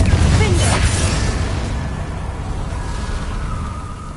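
A fiery Confringo spell bursts loudly at the start while casting in Hogwarts Legacy, a whooshing blast that fades into a long rumbling tail over about four seconds.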